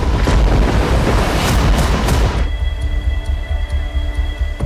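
A heavy thunderclap during a storm rolls loud and close, booming for about two seconds and then dying away into a softer, steady rumble with faint background tones.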